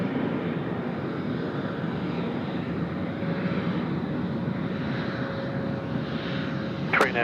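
An Emirates A380 taxiing at Sydney Airport, a loud steady roar of big jet engines with a faint whine held throughout, close and continuous.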